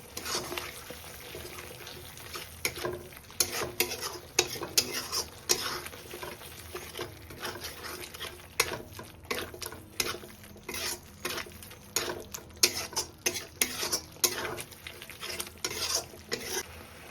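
Chicken curry masala with turmeric, Kashmiri chilli powder and salt being stirred in a pan: a quick run of scraping, clattering strokes over a faint sizzle, close and steady with no talking.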